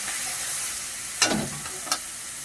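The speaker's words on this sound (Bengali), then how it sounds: "রসুন বাটা দিয়ে দেব। ভালো করে নেড়ে নেব।" Garlic paste fries in a pan under a steady, soft sizzle, with two brief scraping stirs of a utensil, the first longer than the second.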